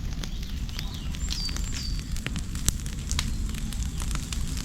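An outdoor fire, just lit for cooking, burns with a steady rushing roar broken by sharp crackles and occasional louder pops, close by and without talk.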